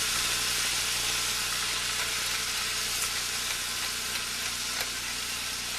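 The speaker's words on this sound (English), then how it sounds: "That's a pound of chopped veal. And I'm going to saute it a little more before I add my wine." A pound of chopped veal sautés in a pan, giving off a dense, continuous sizzle and hiss at close range with a few faint stirring clicks and no talk.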